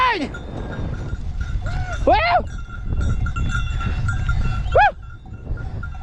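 Goats and sheep bleating several times over a clanking jumble of cowbells, with a voice talking in the background, in a windy mountain setting.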